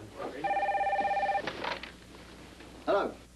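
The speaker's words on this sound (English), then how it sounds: "Phone." A telephone rings with one clear electronic trill at moderate volume, then goes quiet apart from faint room sounds.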